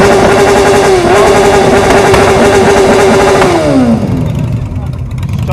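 A four-cylinder motorcycle with a single Viper exhaust muffler roars at high revs, a loud sustained buzzing drone held steady before the pitch drops as the throttle closes and the sound fades.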